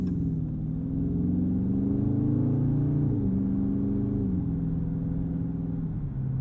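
Dodge Charger Scat Pack Widebody driving and accelerating, a steady low engine rumble with rising and falling harmonic tones as throttle changes, continuous and close throughout with no talk.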